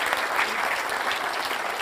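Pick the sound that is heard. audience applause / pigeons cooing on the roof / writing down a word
audience applause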